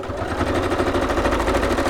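A sewing machine stitches through a pocket made from packaging cardstock, running at a fast steady rhythmic chatter, close and loud with no pauses.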